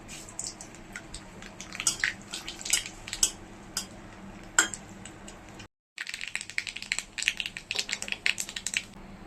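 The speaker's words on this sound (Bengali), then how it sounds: "সর্ষে ফোড়ন দিচ্ছি," Mustard seeds and two dried red chillies pop in hot oil left over from frying fish, with sharp irregular crackles and ticks in scattered bursts and a brief silent gap partway through.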